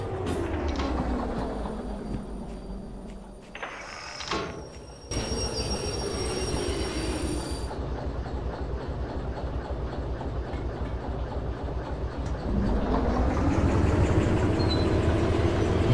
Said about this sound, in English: Go out, start the train. Get it going.